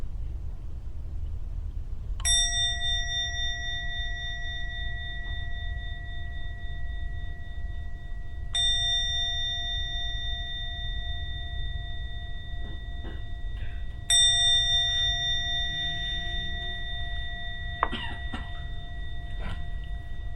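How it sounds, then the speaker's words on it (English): A meditation gong is struck three times at even intervals, each stroke ringing out clear and sustained before slowly fading. A low steady background hum runs underneath. "I'm now going to ring the gong 3 times."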